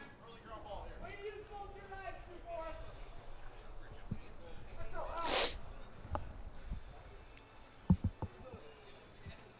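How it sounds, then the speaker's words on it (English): Quiet room tone in a press box at a college club baseball game, with a few faint sniffles and a sharp cough-like burst midway, plus scattered small knocks; soft murmuring in the background. "You can hear sniffles and coughs here in the press box."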